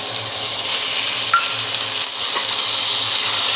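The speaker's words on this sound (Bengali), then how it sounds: "এটা ততক্ষণ ভাজবো ততক্ষণ কাঁচা গন্ধটা না চলে যায়।" Ginger, garlic and green chilli paste fries in hot oil with a steady, close sizzling hiss and a faint clink partway through.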